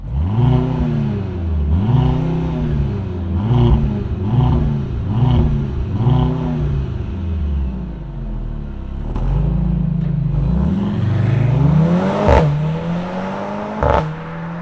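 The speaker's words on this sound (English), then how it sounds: "let's fire it up and hear what this four-banger sounds like" A 2024 Mercedes-AMG C63 S E small-displacement four-cylinder fires up and revs, a series of rising and falling throttle blips in a steady rhythm, followed by longer deeper revs and a couple of sharp pops, loud and close.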